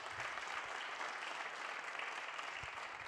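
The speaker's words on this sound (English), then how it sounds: "We can applaud" An audience at a cancer research conference claps steadily, producing a dense, even patter from a room full of people, with a couple of faint low thumps underneath.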